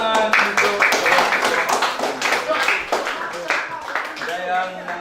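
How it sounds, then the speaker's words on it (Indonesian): Classroom clapping as students applaud a classmate during a lesson, a steady patter of hands mixed with overlapping voices and chatter. "Iya, beri tepuk tangan untuk"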